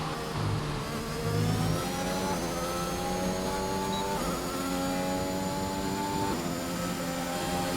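Loud, close engine whine from a racing car, rising in pitch through several gear shifts, each climb followed by a sudden drop, continuous and without voices.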